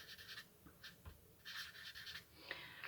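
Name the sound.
writing by hand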